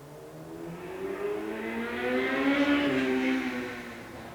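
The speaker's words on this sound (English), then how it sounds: "Excuse the car noises, I know it's kind of loud." Car traffic passing outside, a steady engine whir and rush that swells toward the middle and then eases, fairly loud and continuous with no voices over it.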